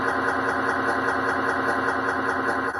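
Tractor engine from the farming video game Farmcraft, a steady, loud droning hum that runs unbroken throughout at close range.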